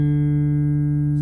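A steady, sustained tone with rich harmonics rings on a guitar's open fourth string, close and even for its whole length with no talking over it.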